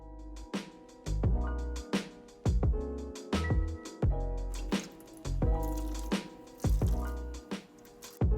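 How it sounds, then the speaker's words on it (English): Thick, fibre-laden smoothie juice squeezed by hand through cheesecloth gives a run of wet squishes and drips in uneven bursts, close and fairly quiet. "Here is where you're putting in that elbow grease, straining out all of the goodness in that juice."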